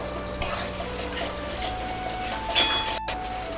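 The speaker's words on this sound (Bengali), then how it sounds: "এরপরে এই পেঁয়াজ বাটার মশলা দুটো ভালো করে মিশিয়ে একটু নাড়ানাড়ি করে দিই।" Onion paste, tomato and spices for Bengali chicken kosha are stirred in a pan, giving a soft continuous sizzle with scraping and light clinks of a spoon against metal, close and steady.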